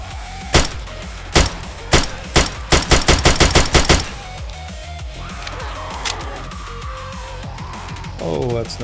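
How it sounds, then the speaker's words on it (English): A shotgun fires in the survival game 7 Days to Die, with loud sharp blasts spaced apart at first, then a rapid run of shots before things quiet down to scattered sounds and a low rumble. "This shotgun's nice, it's just slow."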